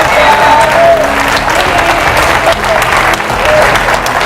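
A church congregation breaks into loud, continuous clapping during a sermon on prayer, dense and close, with a few shouts and murmurs mixed into the applause.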